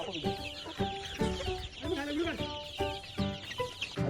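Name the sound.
chickens clucking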